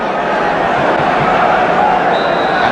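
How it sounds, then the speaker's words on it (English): Loud, dense roar of a football crowd at the 1975 QPR v Spurs match, waiting for kickoff in the stadium, a continuous wash of massed voices and murmur at steady level. "now the crowd is waiting for the start."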